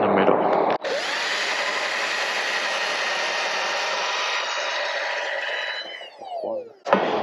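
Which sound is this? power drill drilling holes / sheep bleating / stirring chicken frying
power drill drilling holes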